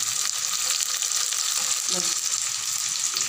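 Ginger garlic paste with green chili frying in a pan for rajma, a steady close sizzle with light stirring throughout, no voices.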